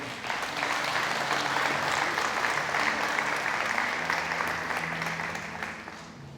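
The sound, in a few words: church congregation applauding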